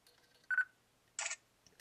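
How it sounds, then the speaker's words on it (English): Two soft, quick clicks of the quiet mechanical shutter of a Nikon V1 camera, separated by a short pause, in an otherwise near-silent room. "listen to the shutter. It's a very quiet mechanical shutter"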